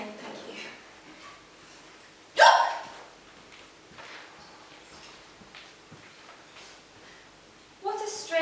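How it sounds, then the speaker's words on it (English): A woman hiccups during a live stage play. Two sudden, loud, sharp hiccups stand apart from quiet room sound, one early and one near the end. "I have the hiccups"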